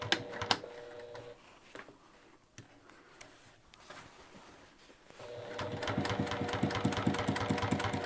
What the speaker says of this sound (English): I'm going to kind of go over the edges and back stitch so it doesn't lift.